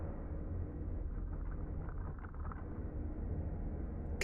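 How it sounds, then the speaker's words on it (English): Low, muffled underwater rumble of a battleship's steel hull and machinery heard through a submarine's hydrophone in a naval video game, a steady dull drone that holds throughout. "Kinda sounds like that's the battleship."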